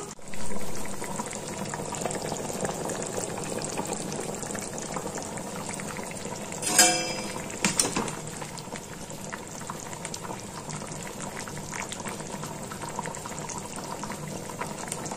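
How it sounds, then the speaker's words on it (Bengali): A tamarind and sesame broth with okra, eggplant and slit green chilies bubbles steadily in a covered pot, a continuous close boil with a brief clatter partway through. "ঝোলটা ফুটতে শুরু করেছে"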